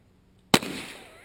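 A single sharp, loud gunshot cracks out at an outdoor shooting range during a zombie-night fun shoot, its report trailing off into a short decaying echo.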